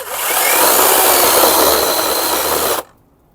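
A Procraft cordless chainsaw runs steadily at full, loud speed under moderate cutting load for nearly three seconds, then cuts off abruptly into near silence.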